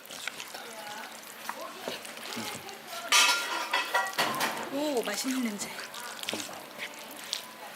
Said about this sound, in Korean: 짜장면 비비는 소리도 사람 참 설레게 합니다